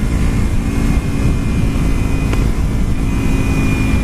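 A motorcycle engine hums steadily while riding downhill through twisty roads with the throttle eased off, the sound close and continuous under heavy wind rush, with no voices.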